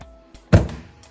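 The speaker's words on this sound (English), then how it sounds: "It's banging quite well on this table." An MJX Hyper Go 14301 RC car is dropped onto a table and lands with a single heavy thunk. A couple of faint clicks come just before it, and there is no talking.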